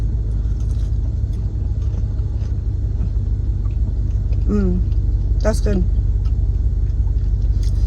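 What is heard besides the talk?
car engine noise inside a car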